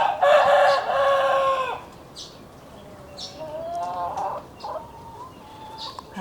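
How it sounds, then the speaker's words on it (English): A rooster in a backyard chicken coop gives a loud, close crow, followed by a second, fainter crow and scattered clucks from other birds nearby. "Roosters crowing in our chicken coop."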